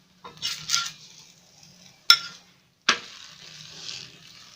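Egg chapati cooking in oil on a pan, with a faint low sizzle, a couple of soft stirring scrapes and two sharp utensil clinks against the pan.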